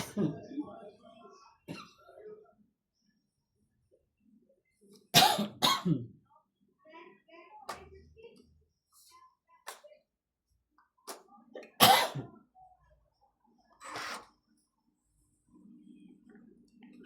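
Harsh coughing at a tong-its card game comes in about three loud, close bursts, with soft talk and quiet table sounds in between.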